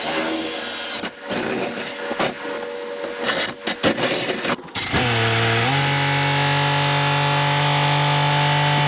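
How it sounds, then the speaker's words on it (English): A power drill bites into a steel tree shear frame in stuttering bursts, then settles into a loud, steady whine as the bit runs continuously, heard up close with no talk. "drill a hole right in between these two braces here"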